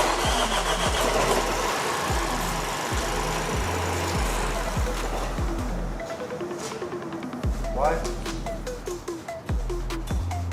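A 2024 BMW X1 (U11) being rebuilt after a wreck cranks without starting, its starter churning in a rapid, uneven rhythm that stays loud and close for the whole stretch, with no catch into a running idle.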